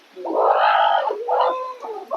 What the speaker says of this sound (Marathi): आजीने बघा डोळ्याखाली कोंबडीची पिल्ल आहेत बघा छोटी छोटी कशी आहेत पिल्ल